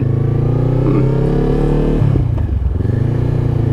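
A Honda CBR500R motorcycle engine humming steadily while riding, loud and close with a droning note that dips and shifts pitch partway through, with no talk over it.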